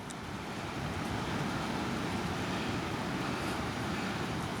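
The North Fork River flows where a small spring creek joins it, giving a steady, broadband rushing wash that holds even and fairly loud throughout, with no voices over it.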